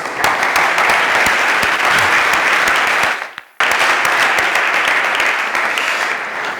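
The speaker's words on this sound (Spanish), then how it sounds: "Un aplauso." Loud, continuous applause from a conference audience at a public-speaking talk, with a momentary drop near the middle before the dense clapping resumes just as strongly.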